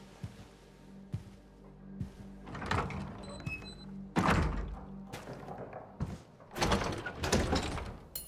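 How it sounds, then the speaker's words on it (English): In a video game, a series of heavy thuds and thumps as a door bangs shut and a latch clicks locked, with scattered clunks and rustling between, fairly close and irregular. "That's funny, that door got locked so fast."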